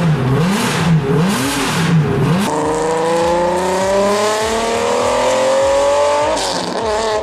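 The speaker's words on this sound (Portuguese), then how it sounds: "com um glorioso som Ferrari V12" A Ferrari F50 V12 engine revs hard and close, its pitch swooping up and down in quick blips before climbing in a long, smooth, shrill sustained rise, loud throughout.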